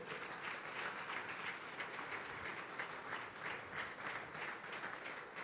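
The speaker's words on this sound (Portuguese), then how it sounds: "Aplauda ao Senhor" Church congregation applauding during a worship service, a continuous rippling crowd of clapping hands heard at a moderate distance, steady and unbroken for several seconds.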